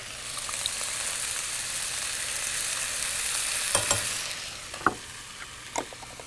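Shrimp and garlic fry in a pan for a shrimp taco, producing a steady, bright sizzle up close, with a few clicks and scrapes of stirring near the end and no talking.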